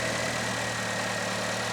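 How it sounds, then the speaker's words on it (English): A Chevrolet Equinox with an intermittent loss of power sits idling, giving a steady, even engine hum that stays constant throughout with no revving. "go ahead and start the engine, Gavin."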